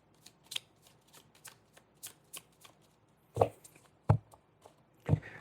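Tarot cards shuffled by hand with crisp riffles and soft flicks, then a few heavier slaps as cards are drawn and laid down, close and quiet with no talking.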